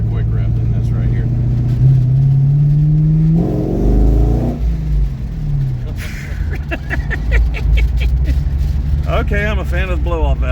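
A supercharged C5 Z06 Corvette engine revs up and drops back, a rising whine followed by a burst of blow-off valve hiss, close and loud, with people talking over parts of it.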